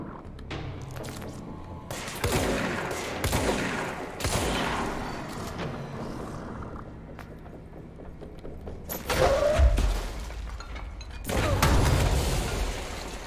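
Bursts of gunfire and heavy impact booms in the video game Control, arriving in scattered volleys with thuds between, loud and close, with no talking.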